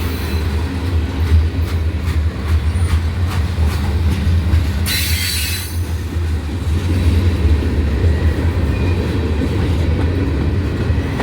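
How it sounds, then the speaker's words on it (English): A heavy freight train rumbles steadily past, pulling slowly uphill, with a deep, continuous drone and clanking wheels, loud and close, with a brief hiss partway through. "He's steadily pulling this train up a hill, so he's going to be slow"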